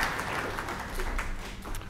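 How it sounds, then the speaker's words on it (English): Graduates at a spring social work graduation ceremony clap for their friends and family, a brief, steady wash of applause from a large seated crowd at moderate distance. "And give them a round of applause."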